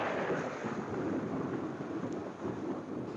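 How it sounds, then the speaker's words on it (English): Low, continuous rumble of thunder from an approaching storm in an outdoor wartime setting, a steady rolling roar at moderate level with a faint rain-like hiss and no talk. "Looks like a storm"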